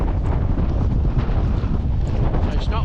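Gusty wind on a Scottish mountain buffets the microphone with low, rumbling blasts, rough and close, with no clear voices.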